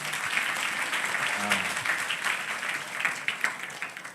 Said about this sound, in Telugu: చప్పట్లు కొట్టండి రాజన్నకి